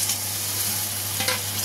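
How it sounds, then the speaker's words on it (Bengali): Potatoes fry in a thick spice masala with a splash of water, a steady close sizzle with stirring scrapes, growing louder briefly near the end. "একটু জলের সাথে আলুটাকে দিয়ে ভালোভাবে কষে নেব।"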